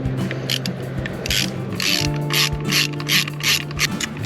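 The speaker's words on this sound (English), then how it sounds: "Let me get my next ratchet bit." A ratchet drives a bolt while a dinghy wheel is fitted to a Highfield CL290, loud close-up rapid clicking in repeated strokes over a low steady hum.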